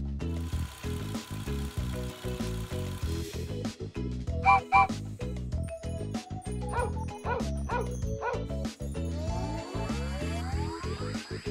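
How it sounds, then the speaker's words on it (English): A cartoon dog barks and yips in short repeated bursts over bouncy children's music in a farm-animal learning cartoon, fairly near and clear. "Dog."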